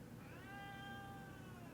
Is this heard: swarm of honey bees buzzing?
no